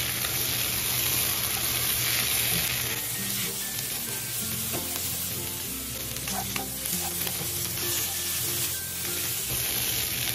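Carrots tumble into a pan of frying vegetables for a Chinese-style meatless Buddha's delight, with steady loud sizzling and frying and scraping stir strokes continuing throughout, alone without talk.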